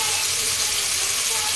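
Duck meat frying in a pan with turmeric, salt and chili, a steady close sizzle with faint stirring, continuous throughout without talk.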